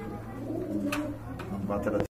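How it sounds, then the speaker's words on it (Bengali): Afsan Kejel pigeons coo in low, repeated rolling calls close by in a pigeon market, with a few sharp sounds in the background. "বর্তমান সময়ের কিন্তু চাহিদা সম্পন্ন কবুতর হচ্ছে আফসান কেজেল কবুতর গুলো"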